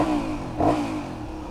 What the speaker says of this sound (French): Écoute-moi ce moteur.